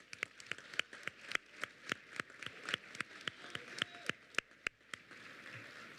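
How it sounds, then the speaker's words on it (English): An audience at a high school senior awards ceremony gives a round of applause, heard as a thin, distant patter of separate claps at a quick, steady rate. "And let's give these seniors a round of applause."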